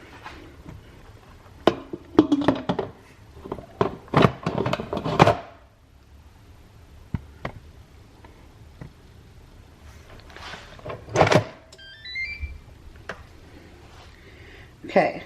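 A Cosori pressure cooker lid is handled and twisted into its locked position, giving scattered plastic clacks and scrapes, then a sharper click cluster near the end, with faint talk in between.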